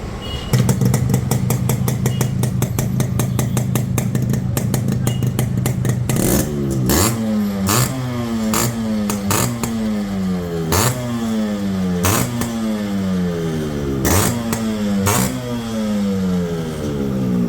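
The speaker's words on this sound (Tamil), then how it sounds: "இப்போ இந்த வண்டியோட பீட் சவுண்டு கேளுங்க." A restored Yamaha RX135 two-stroke motorcycle engine idles with a steady buzzing beat, then is blipped repeatedly, each rev rising in pitch and falling back. It is close and loud, and nobody speaks.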